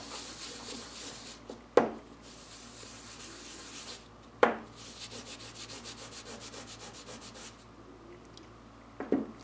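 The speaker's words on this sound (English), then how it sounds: "just rub it, flip it over and do the other side so that it's nice and clean" A part from an Invacare 4-way valve is rubbed clean by hand, with steady scrubbing strokes on one side and then the other, broken by a few sharp knocks as it is turned over, close up and with no talking.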